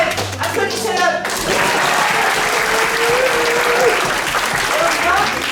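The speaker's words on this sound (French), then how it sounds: "Applaudissez-le!" A crowd at an improv theatre festival bursts into loud, sustained applause and clapping, with a voice speaking briefly at the start.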